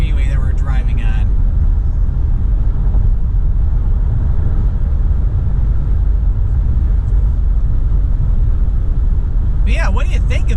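Car cruising along the I-65 freeway, a steady low road and engine rumble with wind noise throughout, and a voice talking briefly at the start and end.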